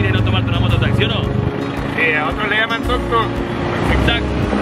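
A motorcycle taxi (tuk-tuk) in the town of Gracias, Lempira, its engine droning steadily up close beneath continuous talking.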